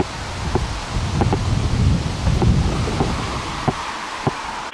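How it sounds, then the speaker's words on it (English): Steady rain patters on a car, heard from inside, with a constant wash of noise, a few sharper drops or taps standing out now and then. "raining out, so I'm inside the car"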